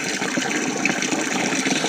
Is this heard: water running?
yes